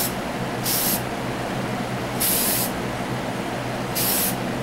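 Three short bursts of spray paint hiss close by as a silver base coat goes onto a diecast James Bond Aston Martin DB5 model, each burst lasting about half a second, with steady background noise between them.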